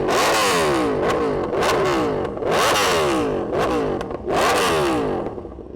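A Yamaha R1M and an Aprilia RSV4 superbike rev hard up close, with repeated loud climbing engine wails that drop back between blips, roughly four rising pulls in a row.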